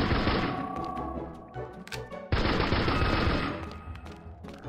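Rapid gunfire in the CastleMiner Z video game comes as dense, loud bursts of shots, with a brief pause midway before another sustained volley.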